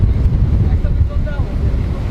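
A tour boat cruises the Dalyan river in Turkey, its steady low engine rumble mixed with wind buffeting the microphone as people talk on board.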